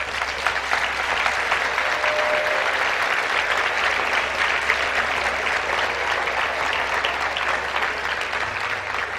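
Sustained audience applause at a solidarity concert in Catalonia, a dense, even roar of many hands clapping from a large crowd, continuing without a break and with no talk over it.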